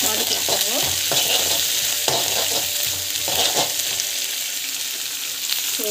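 Onion and green chili sauté in a hot pan, a steady sizzle and frying hiss with the repeated scrape of a spoon stirring through the mixture; no talking.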